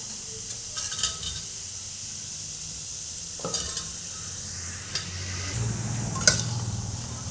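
Vegetables go into a pan with beetroot and get stirred, giving a low frying sizzle under scattered clinks and scrapes of a spoon against the pan.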